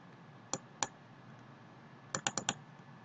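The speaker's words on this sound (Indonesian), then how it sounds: "saya lihat Mbak Ani lagi mengetik" Computer keyboard keys clicked in two short bursts, a couple of isolated taps and then a quick run of four crisp keystrokes, close and fairly quiet against a faint background hum.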